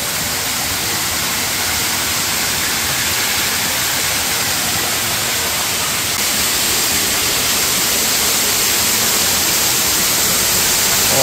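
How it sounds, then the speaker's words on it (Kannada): At Ermayi Falls near Ujire, water pours down inside a rock cave, making a loud, unbroken rushing roar that fills the space and holds steady throughout. "ಬಂಡ ಒಳಗೆ ನೀರು ಫಾಲ್ಸು"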